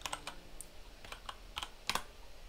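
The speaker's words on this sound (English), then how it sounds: "Type in curve into command," Soft, quick keystrokes on a computer keyboard at a desk, an uneven burst of close clicks over a faint background hiss.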